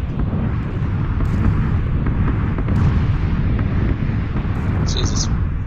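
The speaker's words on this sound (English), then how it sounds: "As soon as this bombing stops." Bombing in PlayerUnknown's Battlegrounds booms as a loud, sustained rumble of explosions, with heavy low-end blasts rolling on continuously throughout.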